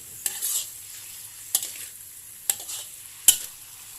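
Pork and sugar stir-fried in a pan for a Thai braised pork with pickled mustard greens dish: a steady close sizzle broken by four sharp scraping stirs of the spatula, with no voices.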